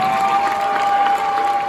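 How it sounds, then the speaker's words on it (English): An audience applauds and cheers steadily with a constant tonal hum running beneath, the clapping dense and close throughout the short stretch. "Give him a round of applause."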